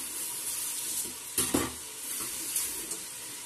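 Chicken and mushrooms are stirred in a pot over a soft sizzle, with a couple of louder scraping, clattering strokes in the middle and light stirring sounds after.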